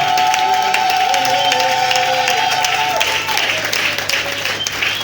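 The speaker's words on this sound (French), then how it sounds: "Acclamons fort le Seigneur." A church congregation at an inaugural service breaks into loud, dense applause with cheering, sustained crowd clapping and voices filling the room; a held sung or spoken tone runs underneath before the clapping continues alone.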